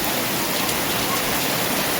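Heavy rain pours steadily on a home during a downpour, a dense, even hiss of water with no pauses and no voices.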